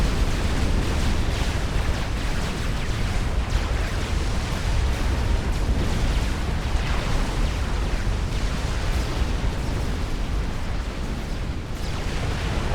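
Cybran super weapon explosions in Supreme Commander tear through a base, a loud, sustained roar of overlapping blasts and rumbling destruction lasting many seconds.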